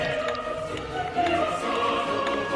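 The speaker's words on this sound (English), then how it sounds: "have a bunch of classical music on my alarm clock." Classical music playing from an alarm clock sound pack inside a puzzle game, a continuous melodic tone with sustained notes at steady loudness and no talking.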